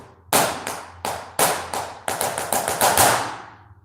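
Sharp flamenco heel taps strike a hard floor in a quick uneven pattern, a few spaced beats then a faster cluster, loud and close with no talking.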